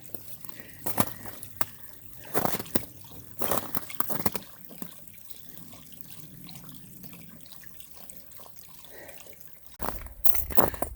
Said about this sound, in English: Our first real decent flowing water.